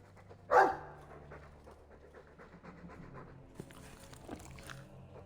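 A dog in the video game Dragon Age 2 pants and slobbers, a short burst of loud breathing followed by quieter snuffling and panting against a faint ambient hum.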